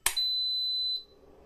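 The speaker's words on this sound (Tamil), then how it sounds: "ஒரு பீப் சவுண்ட் ஆரம்பித்து அதுக்கப்புறம் ஒரு ரன் ஆகிட்டு அப்படி ஸ்டாப் ஆகிடும்" A Preethi induction dial stove gives a single steady electronic beep of about one second as it is switched on, followed by a faint low fan hum.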